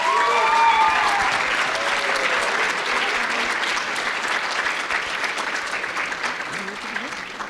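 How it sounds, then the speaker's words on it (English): Audience applause for the candidates at the close of a live youth governor debate, loud and sustained clapping from a room full of people, with a few voices audible through it. "Can we give our candidates a warm round of applause?"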